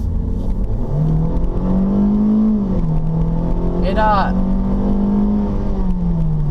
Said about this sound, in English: it's a 4-cylinder, so it's not going to sound terrific, but it's not quiet